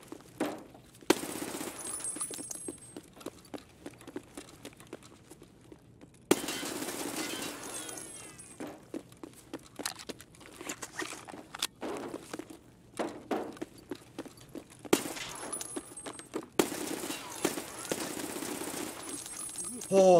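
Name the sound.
gunfire in the video game Escape from Tarkov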